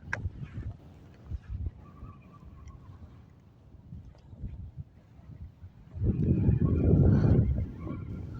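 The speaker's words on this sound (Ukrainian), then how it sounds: "Да, вітер бешений." Gusty wind while fishing rumbling against the microphone, quieter at first and then a loud surge of buffeting near the end.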